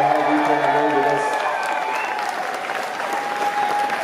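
A concert audience at Webster Hall in New York applauds the opening act with a full, sustained wash of clapping and some cheers, while a few lingering sustained tones from the stage fade beneath it.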